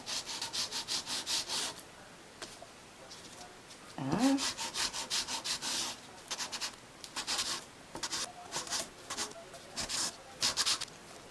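A nail file rubs along the sides of acrylic press-on nails in quick back-and-forth strokes, close and steady in repeated bursts, with one brief louder knock partway through.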